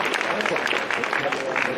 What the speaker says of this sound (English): can we get a round of applause for Colleen Withers?